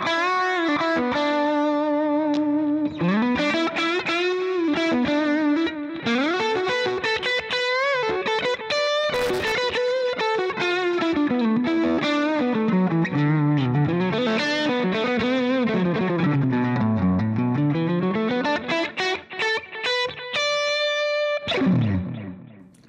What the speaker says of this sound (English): I also have a little more lead sound with a little bit of delay, which is an analog mono delay